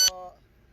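A single short electronic notification beep from a mobile phone signals an incoming text message, bright and close, fading within a fraction of a second.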